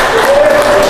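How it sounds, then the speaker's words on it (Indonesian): An audience applauds a man at a gathering, a dense burst of clapping that fills the whole brief moment at steady, fairly loud volume. "Tepuk tangan buat Bapak"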